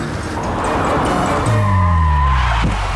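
A car brakes hard to a stop on a road, its tires squealing in a drawn-out skid that falls in pitch over a loud, continuous engine and road roar.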